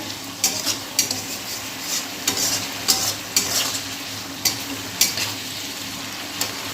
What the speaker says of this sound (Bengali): এবার চলো ভালো করে মশলাটার সঙ্গে করলাটা মিশিয়ে